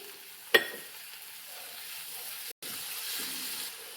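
Chopped tomato drops into browned onions frying in a pan, giving a sharp sizzling burst near the start, then a steady low frying hiss with a brief dropout partway through.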